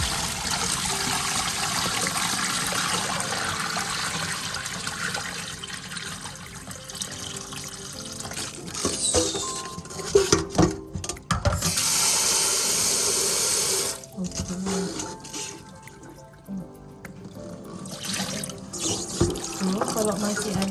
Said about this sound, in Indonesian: Sekarang buang airnya dulu.